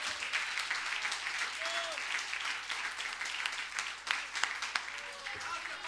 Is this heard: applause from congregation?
yes